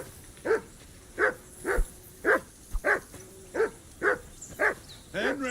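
A dog barking at a riverbank camp, about ten evenly spaced barks at moderate distance, steady in rhythm, ending with a rising whine-like yelp.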